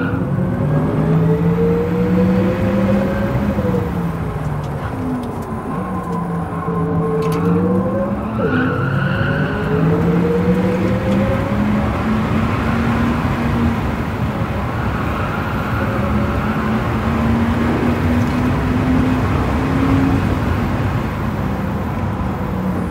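A race car laps a circuit in Gran Turismo 7, its engine note rising and falling through gear changes, with tire skids and squeals through the corners. Loud and continuous, with no talking.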